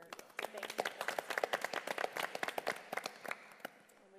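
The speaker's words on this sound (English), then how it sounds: "So I would still like to give him a round of applause" A small crowd at a school board meeting gives a round of applause, with scattered hand claps building quickly, holding for a few seconds and then tapering off.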